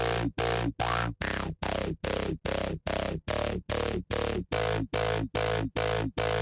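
A Serum synth bass with a resonant filter peak for future riddim pounds out about fifteen evenly spaced, heavy, buzzing notes in a steady rhythm, each with an audible resonant sweep.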